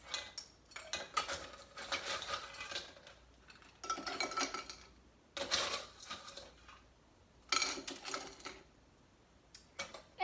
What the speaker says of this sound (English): Let's add some ice.